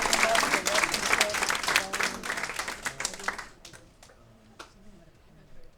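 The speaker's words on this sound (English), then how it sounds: "Nice clapping, everybody." A concert audience claps loudly in a dense burst of applause that gradually thins out, leaving a few scattered claps at the end.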